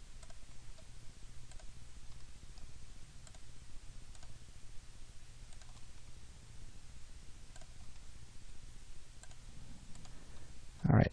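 Faint, sparse computer mouse clicks while modeling in 3ds Max, soft isolated ticks over a quiet hiss, with a brief rustle at the end.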